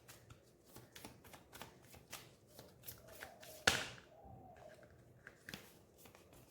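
Tarot cards being shuffled during a Rakhi Purnima reading, giving a series of soft riffling, tapping card sounds with one sharper slap near the middle, close and fairly quiet, with no talking.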